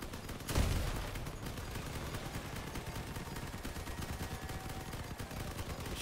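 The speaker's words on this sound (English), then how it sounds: "Watch out for the cannon." Gunfire and cannon shots ring out in the vehicle combat game Crossout, one heavy blast early on followed by dense, continuous rattling fire that stays steady at moderate level throughout.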